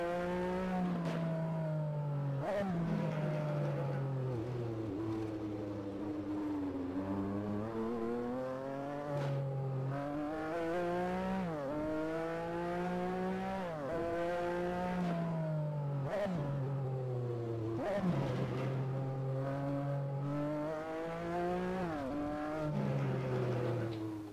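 Porsche 962C race car engine in a racing game, revving hard through repeated upshifts and downshifts, a loud steady engine note climbing and dropping in pitch throughout.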